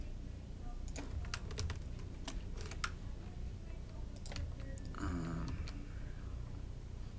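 Keyboard shortcuts tapped out on a computer keyboard while modelling a car's tail lights in 3D software, a scattering of light clicks and short bursts of keystrokes over a low steady hum.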